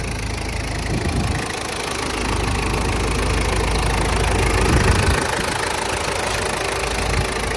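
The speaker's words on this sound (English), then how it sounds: "Idles nice and strong. This one actually has the 1KZTE turbo diesel engine" A 1994 Toyota Hilux Surf's 1KZ-TE turbo diesel engine idles with a steady, loud, even rumble, close by and with no one talking.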